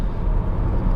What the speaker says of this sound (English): Very, very quiet car on the road.